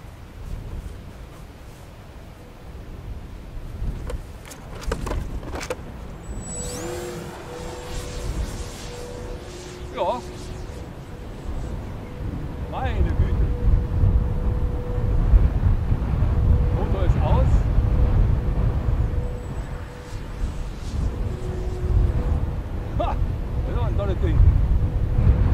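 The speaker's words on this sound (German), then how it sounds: "Wir haben jetzt Windstärke 3 in Böen 5." Gusty wind, force 3 gusting to 5, buffets the microphone during an RC glider test flight of a Yuki Model Pilatus B4, a heavy low rumble building and swelling in waves, with faint tones and brief noises over it.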